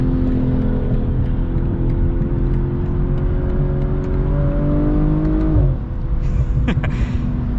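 A 2022 BMW M440i xDrive engine revs steadily around high RPM from inside the cabin, a sustained harmonic drone that climbs slightly before dropping off near the end, with a faint whir continuing after.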